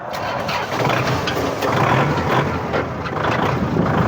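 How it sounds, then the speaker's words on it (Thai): A used farm vehicle's engine at a farm machinery shop in Nam Pat, Uttaradit, cranks and catches, then runs at a steady, loud, close idle. "ลองสตาร์ทเครื่องโชว์ก่อนนะ"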